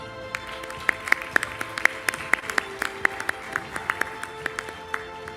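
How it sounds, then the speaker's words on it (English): Conference attendees clap for award winners, scattered individual claps with distinct sharp hits over a background of steady tones and sustained music-like notes. "Let's hear a big round of applause for the winners."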